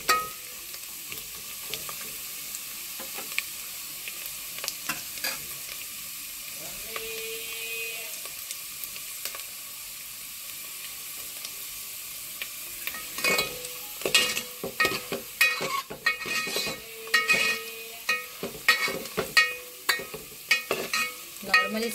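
Roasted cashews simmering in milk for sheer khurma, a soft steady sizzle that grows busier toward the end, with repeated clinks and scrapes of a spoon stirring the pan up close.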